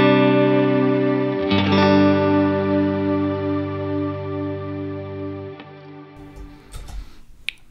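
An electric guitar plays through a Strymon Cloudburst ambient reverb pedal. Sustained chords ring out with a lush, shimmering wash that slowly decays over several seconds before faint handling noises at the end.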